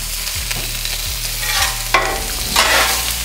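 Steak and vegetables stir-frying in oil on a Halo Elite4B griddle, a loud close sizzle with sharp spatula scrapes, no voices.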